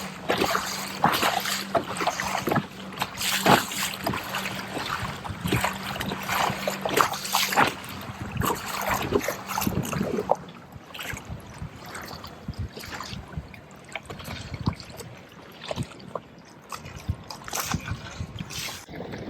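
A dual electric motor mounted on a Glide stand-up paddle board pushes it through choppy water, with a steady motor hum, splashing and trickling water close by, louder in the first half and then quieter.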